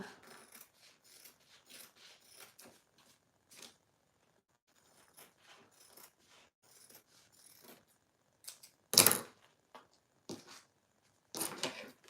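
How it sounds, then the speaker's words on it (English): Cutting away the excess fabric from a recycled food box being made into a window journal, with scattered close snips and rustles, a few sharper crisp cuts, and no speech. "Then I can trim off the excess fabric because I know I don't need that"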